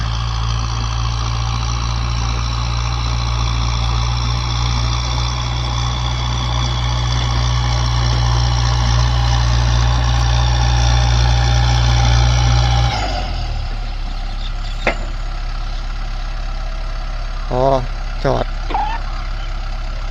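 A Kubota M6240SUH tractor plows a rice field, its engine droning steadily and loudly up close. About two thirds of the way through, the engine note drops away and a few brief sharp knocks and bursts of chirping follow.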